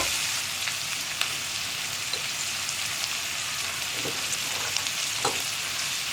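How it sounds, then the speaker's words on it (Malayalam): Onions frying with salt in a pan for egg biryani, giving a steady close sizzle throughout with a few soft stirring clicks and no talk. "ഇനി നമ്മുടെ സവോളയൊന്ന് നന്നായിട്ട് കുക്കായി വരട്ടെ."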